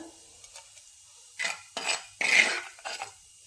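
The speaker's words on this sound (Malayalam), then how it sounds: "ഇതിൽ നിന്ന് നമുക്ക് കുറച്ച് കോരി മാറ്റി വയ്ക്കാം" A spoon scoops fried onions and chilies out of hot oil in a pan, making several short scraping and clinking strokes against the metal over a faint sizzle, close and fairly quiet with no talking.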